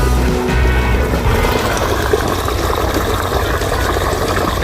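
Water gushes steadily from a pipe, a continuous rushing flow with a low mechanical hum underneath.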